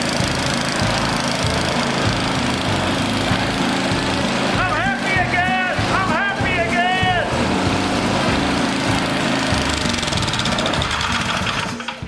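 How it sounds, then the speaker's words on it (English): A Craftsman MTD snowblower engine runs steadily at close range, a loud and constant rattling drone with no break, and a short high whine rises and falls partway through. "We got this here Craftsman MTD snowblower running."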